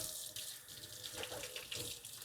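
Onions rinsed under a running kitchen tap, a steady close splash and gurgle of water with small shifts as the onions are turned, no voices.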